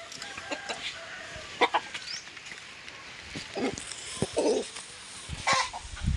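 Chickens cluck and squawk in short irregular bursts, some close and loud, over a rustling outdoor background with no talking.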